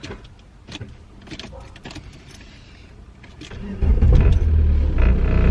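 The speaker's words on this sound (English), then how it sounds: "Sometimes the ignition does that. It'll click for a second and then it fires up next turn." A mechanically injected turbo diesel Jetta's ignition clicks a few times, then the engine fires and settles into a loud, close, rumbling idle.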